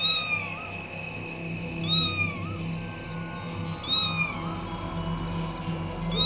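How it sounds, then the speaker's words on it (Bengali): A cartoon cat meows repeatedly, a few drawn-out, rising and falling cries spaced about two seconds apart over a faint background score. "হ্যাঁ, আবার বিড়াল।"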